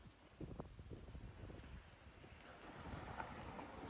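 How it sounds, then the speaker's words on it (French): Steady wind rushing and buffeting outdoors at night, a continuous broad roar that swells slightly toward the end. "Il fait noir, juste entendez le vent."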